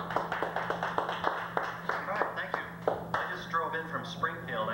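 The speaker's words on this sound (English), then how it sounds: "Thank you for that warm round of applause." Audience applause at a stand-up comedy show in 1994: a burst of scattered, moderately close claps in the first few seconds, thinning out as a voice takes over and keeps talking.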